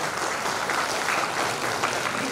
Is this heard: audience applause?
yes